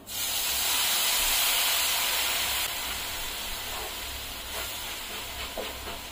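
Milk poured into hot roasted rava hisses sharply as it hits the pan, with a loud steamy sizzle that peaks early and then slowly fades. No one speaks.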